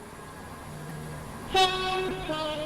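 A three-coach train arriving at Westercoast station: low rumble, then a loud horn blast sounds partway through, followed by a sustained tone as the train runs in.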